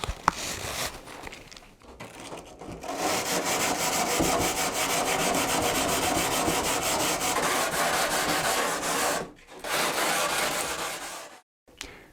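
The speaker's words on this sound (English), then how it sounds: "we just finish these edges by hand using abrasive papers, probably going for a 120 and then finishing up with a 240." Abrasive paper rubs by hand along the edges of a carbon fibre car bonnet panel, giving a continuous close scratchy rasp in long strokes broken by brief pauses.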